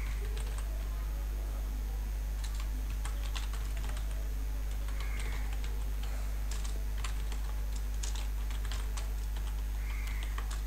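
Someone types on a computer keyboard while filling in a name and contact details on an online sign-up form: a steady run of light, rapid key clicks, close by, over a constant low electrical hum.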